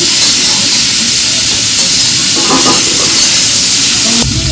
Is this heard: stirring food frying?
yes